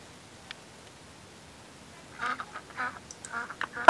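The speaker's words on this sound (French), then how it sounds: "Donc il y a des canards et tout qui passent par là." Ducks quack in RollerCoaster Tycoon 3, starting after a quiet stretch as a burst of several short, nasal quacks in an uneven rhythm, fairly close and clear.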